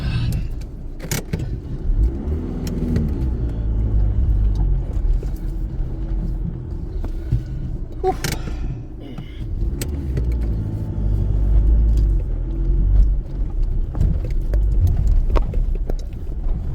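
A Skoda Yeti drives along an unsurfaced green lane on Jumble Road in South Yorkshire, its engine a steady close rumble inside the cabin, with knocks, rattles and jolts from the rough track throughout.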